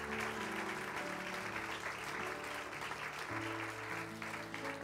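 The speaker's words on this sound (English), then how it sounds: "Could we give them a hand clap for appreciation?" A church congregation at a children's service claps in appreciation for a couple, a soft, distant patter of hands with sustained musical tones underneath.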